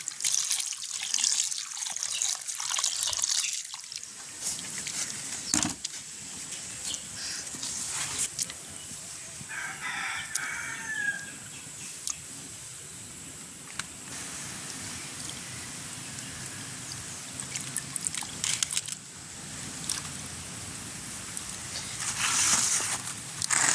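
Cut squid pieces washed by hand under a running tap in a village kitchen, a steady splashing water stream with handling and sloshing, quieter gaps and dripping midway, then a louder rush near the end.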